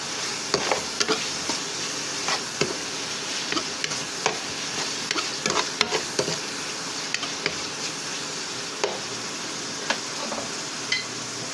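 Bacon and mushrooms frying in a pan for carbonara pasta, a steady close sizzle with scattered crackles and pops throughout, no voices.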